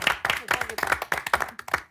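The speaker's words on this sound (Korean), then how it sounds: "여기서 박수 한번 주십시오." An audience at a Korean military-themed variety show claps in a dense burst of sharp, overlapping hand claps, close and steady for about two seconds with no voices.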